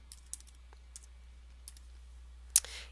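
Sparse, light keystrokes on a computer keyboard, a handful of separate quiet clicks spaced out, ending in one sharper tap.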